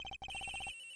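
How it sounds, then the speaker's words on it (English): Telephone ringing in the Ace Attorney Investigations: Miles Edgeworth video game, a quick series of about ten evenly spaced electronic rings, clear and close, with a brief gap after the first two before stopping abruptly. "The ringing is coming from somewhere around here."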